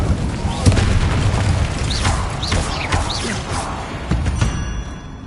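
Fire spell Incendio being cast in a Hogwarts video game: a sustained roaring burst with booming, whooshing swells and rising magical zips, loud and dense for several seconds.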